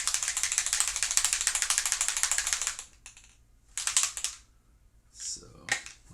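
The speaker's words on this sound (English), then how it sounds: "we are going to spray this" Antique linen ink is misted onto paper from a spray bottle: a long run of rapid, hissy pumping sprays, then a couple of short separate bursts, with a voice heard briefly near the end.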